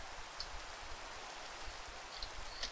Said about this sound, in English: It's rain. It's like real life.